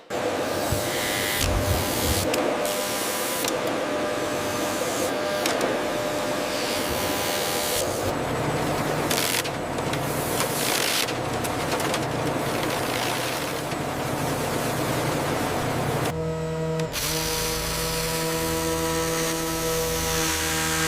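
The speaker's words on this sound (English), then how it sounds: "The tufting process utilizes high-speed mechanical needles to anchor biodegradable or nylon" A high-speed tufting machine drives nylon or biodegradable bristles into bamboo toothbrush handles in a factory, producing a loud, steady mechanical whir and clatter that runs without a break throughout, with no voices.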